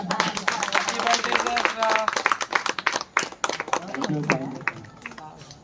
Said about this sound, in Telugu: సాహస్రకు ఒకసారి మనం గట్టిగా క్లాప్ చేద్దాం